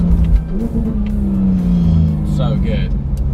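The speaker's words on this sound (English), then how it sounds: "If there's anything going to wake you up in the morning, it's a Sharkworks exhaust." A car fitted with a Sharkworks aftermarket exhaust rumbles and revs loudly up close, its deep droning note rising and falling steadily, with brief higher tones near the end.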